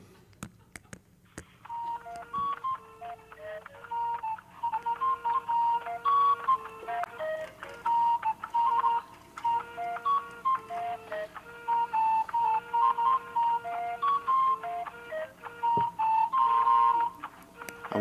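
Tinny melodic music, a Linnaeus-themed playlist playing from a phone speaker, with a steady run of bright notes over a low hum for most of the clip.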